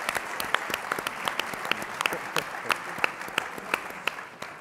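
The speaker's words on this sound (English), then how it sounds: "a round of applause for all of our contestants here" An audience at a pitch competition event claps for the contestants, a steady spread of many hands with sharp individual claps standing out, fairly distant and moderately loud.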